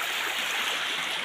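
Swollen water rushes after heavy rain, a steady, dense hiss close by that runs unbroken through the moment with no talk.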